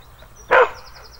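A Beauceron dog at a French championship gives one sharp, loud bark during a menace test outdoors, preceded and followed by quiet background.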